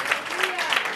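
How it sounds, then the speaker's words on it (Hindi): A church congregation claps during worship, with rhythmic bursts of applause swelling and easing in a pulsing pattern while a voice carries over it. "ताली बजाएंगे"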